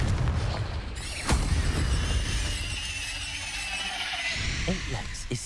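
A Confringo spell explodes in Hogwarts Legacy, a sharp crack followed by a booming rumble that fades slowly. Other game effects ring out afterward.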